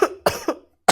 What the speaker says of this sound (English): It's just gonna be a whole lot of coughing